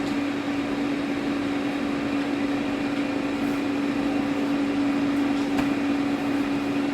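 A Ninja 4-quart air fryer set to 400 degrees runs with a steady, close mechanical fan whir and a constant low hum, holding the same level throughout with no talk over it.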